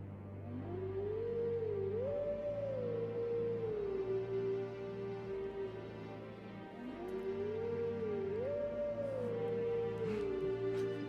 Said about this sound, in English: Love the howling duets.